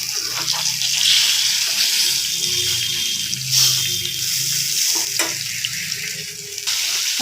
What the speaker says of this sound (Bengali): ওই মাছ একটু ভালো করেই ভাজতে হয়